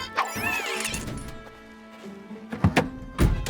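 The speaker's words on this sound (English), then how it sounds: "Oh, no! That sound means Tilly's starter motor has broken." A cartoon tow truck's starter motor breaks with a series of clunks and thuds: a clatter early on, a quieter stretch, then several sharp knocking impacts near the end.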